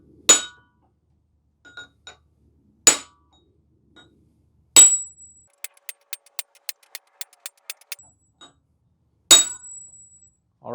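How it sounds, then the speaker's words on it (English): Hammer tapping each cylinder head bolt on a 1974 Datsun 260Z engine: a few sharp isolated metal clinks, then a quick run of about ten light even taps, and one more solid strike, all close and clear with no talk. "We're going to go around and just give each one of these a nice solid tap."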